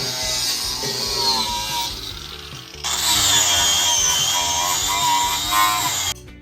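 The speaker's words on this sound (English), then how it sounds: "Now we have to grind off the old underbody coating" A power grinder scrapes old underbody coating off a BMW E46 chassis near the rear subframe, a loud close whine that steps up in intensity partway through and then cuts off near the end.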